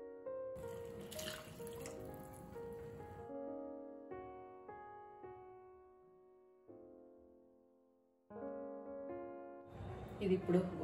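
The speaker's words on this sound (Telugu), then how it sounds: "ఇది చిక్కగా ఉంది కాబట్టి కొన్ని నీళ్ళు వేసి మళ్ళీ ఉడికించుకోవాలి." Water pours from a vessel into thick pav bhaji curry in a pan, a steady splashing stream in the kitchen that pauses and resumes, over sustained background music.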